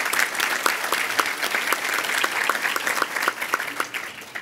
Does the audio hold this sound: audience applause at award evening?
yes